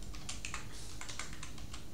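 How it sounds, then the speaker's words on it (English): Someone types on a computer keyboard in a quiet room. The keystrokes are soft, quick and irregular over a low background hum. "So I will type here."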